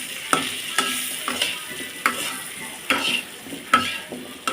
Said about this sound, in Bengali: কুমড়োটাও আমি হলুদ লবণ দিয়ে ভালো করে ভেজে নিলাম।